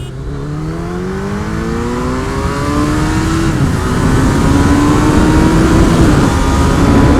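Kawasaki ZH2 and Suzuki Hayabusa motorcycles accelerating hard in a drag race, loud close engine whine rising steadily in pitch through the gears, continuous and alone.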